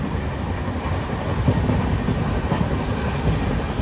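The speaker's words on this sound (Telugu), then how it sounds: "మన ట్రైన్ అయితే సూపర్ నడుస్తుంది" The Visakhapatnam Weekly SF Express 22802 runs at speed, heard from on board as a steady, moderately loud rumble with faint rhythmic wheel clatter throughout.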